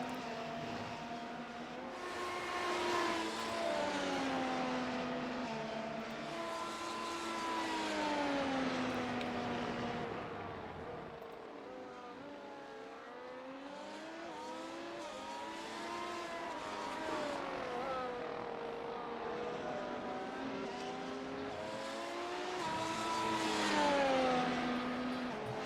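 Race cars in a racing video game stream out of pit lane at the Spanish Grand Prix, a continuous layered engine whine with rising and falling pitches as several cars accelerate together, steady and fairly loud throughout.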